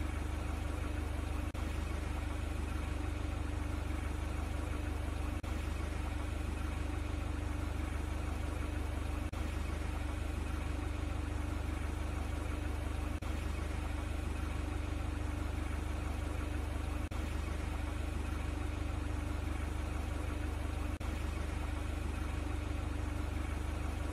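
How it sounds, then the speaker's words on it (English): Low, steady engine hum of a forklift idling in a virtual-reality training simulator, a constant drone with faint periodic ticks and no speech over it. "Press the start engine button."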